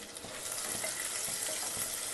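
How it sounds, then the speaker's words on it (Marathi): Onion fries in a pan for carrot pulao, a soft continuous sizzle and crackle close by with faint stirring scrapes, fairly quiet and even throughout. "घातल्यामुळे ना आपला कांदा पण लवकर भाजतो"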